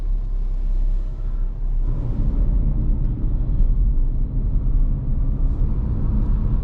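A 2023 Dacia Duster with the 115 HP engine and 4x4 drives at night, heard from inside the cabin as a steady low engine and road rumble that holds at an even level throughout.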